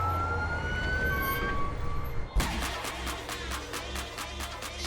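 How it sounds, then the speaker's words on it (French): An ambulance siren wails in a loud, steady, repeating rise-and-fall pattern. It cuts in abruptly halfway through and continues to the end with no one speaking over it. "On est dans une ambulance?"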